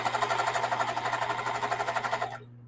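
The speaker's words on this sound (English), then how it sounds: "So I'm going to backstitch." A sewing machine stitches a spring tote bag with a fast, steady mechanical whir and a low motor hum, running continuously before stopping abruptly.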